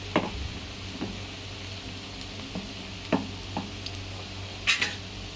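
Onion pakoda (bhaji) frying in a pan of oil give a steady, close sizzle with scattered pops and light spoon or ladle taps, and no one speaks.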